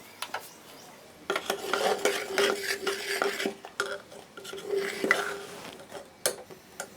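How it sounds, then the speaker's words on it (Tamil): A ladle stirring tempering into boiling idli sambar in a metal pot, repeated scraping and clinking strokes in an uneven rhythm, close and fairly quiet, with brief pauses between bursts. "இப்போ கொதிக்கிற சாம்பாரில் நம்ம தாளிச்சது சேர்த்து நல்லா கலந்து"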